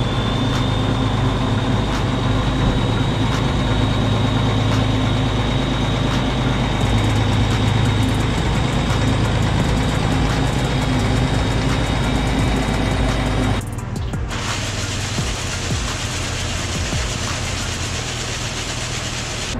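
A tractor engine idles steadily with a low, constant rumble on a dairy farm, and its tone shifts abruptly partway through before continuing to run.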